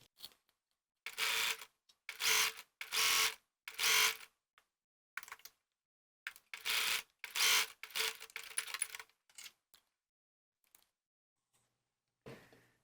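A sewing machine stitches over a welt seam in short bursts of fast whirring, several runs of about a second each with quiet pauses between, fairly faint and close.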